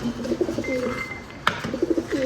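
Pigeons coo in soft, repeated rolling calls nearby, broken by a single sharp tap midway.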